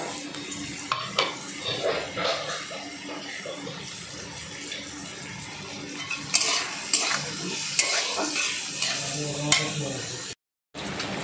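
Chopped tomato gets stirred into a frying masala for a papaya-stem and prawn dish, with a spatula clattering against the pan over a low sizzle, close up and continuous before a brief silence near the end.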